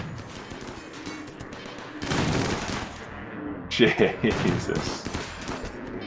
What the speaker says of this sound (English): Our own guns are tearing up these limestone walls.